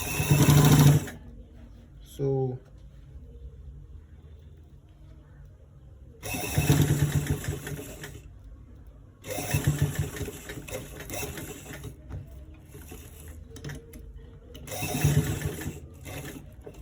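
An industrial sewing machine stitches the inner pocket of a V-neck garment in several separate runs of rapid mechanical whirring, each lasting a few seconds, with quiet pauses between them.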